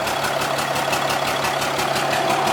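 A fourth-generation dually pickup truck engine idles loudly up close, a steady rough rumble with a fast, even pulsing knock throughout, while the engine smokes from oil in the exhaust.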